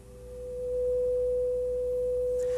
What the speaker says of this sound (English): displayed down here is a 500 hertz sine wave